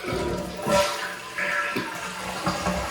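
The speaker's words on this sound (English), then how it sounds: "Let's flush the toilet." A household toilet flushes after a DIY repair with new gaskets and a reinstalled tank, a loud rushing of water that swells, dips and then keeps running as the tank refills, close by and with no voices.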